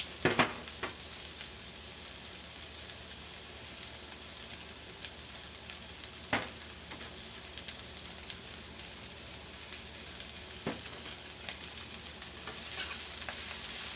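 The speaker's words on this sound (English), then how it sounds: "we're just going to cook this down until it's pretty much wilted" Spinach wilts in a hot pan with fat, seasoned with salt and pepper, giving a steady, even sizzling hiss with a few small pops and ticks, close by and with no talking.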